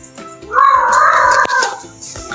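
A cat inside an old haveli lets out one drawn-out, wavering meow close by, with a faint sharp knock partway through and quiet surroundings.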